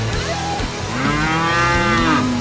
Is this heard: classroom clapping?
no